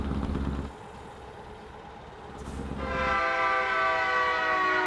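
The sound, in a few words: loud passing train with horn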